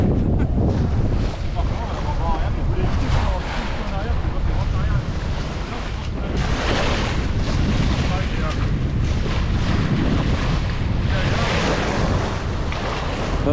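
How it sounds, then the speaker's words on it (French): Wind and sea waves heard aboard a sailboat on open water, a steady, loud broadband rush with surging wave swells, and faint voices murmuring in the background. "La vague, le bruit du vent, et c'est tout."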